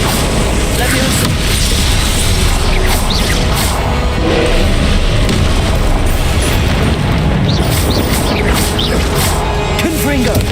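Loud, continuous explosive booms and crashing bursts of the Confringo fire spell in Hogwarts Legacy, layered into dense battle noise with other spell effects, while a voice calls out over the clamor.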